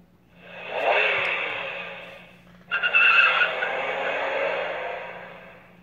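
A Dash robot toy plays a screeching sound effect, two rising squeals in a row, the second starting abruptly and sustaining to the end, loud and close with no talking.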